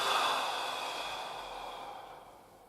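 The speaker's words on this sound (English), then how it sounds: "we're going to do a few nice deep belly breaths in this position" A deep belly breath exhaled slowly through the mouth, one long breathy whoosh that starts loud and close and gradually tapers off, with no talking.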